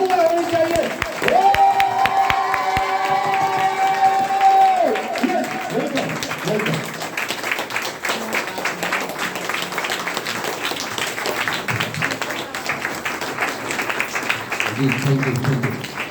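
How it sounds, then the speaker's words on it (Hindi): Audience at a health training program in Bhagwanpur clapping and cheering, a dense, continuous roar of applause behind an amplified voice with music at the start. "जबरदस्त जोरदार ताली होनी चाहिए, हल्ला होनी चाहिए।"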